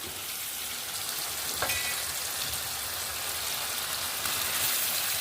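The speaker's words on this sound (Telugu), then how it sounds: "ఇప్పుడు మనము ఈ ఫిష్లు ఈ ఆయిల్లో వేసుకోవాలి" Fish dropped into hot oil in an iron kadai sets off a steady, hissing sizzle, a broad crackle that holds even from start to end, fairly close and with no voices.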